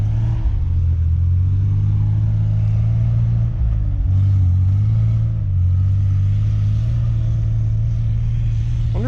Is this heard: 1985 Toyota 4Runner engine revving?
yes